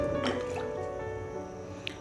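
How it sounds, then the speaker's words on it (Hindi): Potatoes splash and squish as they go into a pot of water tinted with yellow food colour for biryani, a few wet plops and drips close up. "फिर हम इसमें अपने आलू शामिल कर देंगे"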